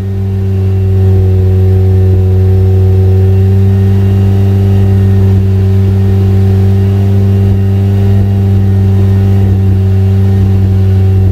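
A Renault Clio 3 RS with a GT Performance exhaust idles steadily at 3000 rpm, giving a loud, even drone with strong low harmonics and no rise or fall.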